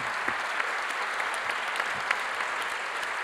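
An audience at a press-cartoon event applauds in an even, continuous patter of many hands, moderately distant and without talk.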